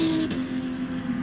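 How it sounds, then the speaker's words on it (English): Choice Racing BMW race car going by at Sebring International Raceway during a 24-hour endurance race, a loud close engine whine sweeping past in about a second. "Can you hear the Choice Racing BMW every time it comes by?"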